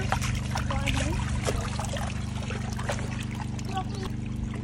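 Water from a natural spring runs continuously at an outdoor cooking spot, making a steady, fairly quiet trickling and splashing flow with no break, mixed with a low background hum.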